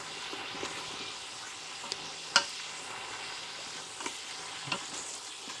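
Beef shank sizzles and fries in a Ninja Foodi ceramic pot as liquid evaporates, with a steady hiss and a few sharp clicks of a utensil stirring against the pot, close and moderately loud, no talking.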